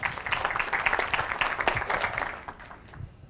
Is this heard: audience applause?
yes